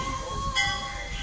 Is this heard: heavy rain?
no